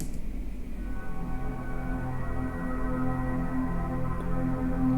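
Ambient synth pad from the Baby Audio Atoms plugin, a steady, evolving textured drone with shimmering tones and a low rumble, holding without pause and gradually swelling, with no voices.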